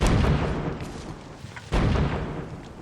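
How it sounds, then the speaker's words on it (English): Heavy booming blasts in a World War II film, two big impacts about a second and a half apart, with rumbling debris and crackle between them. "those explosions going off all around them are so startling and frightening"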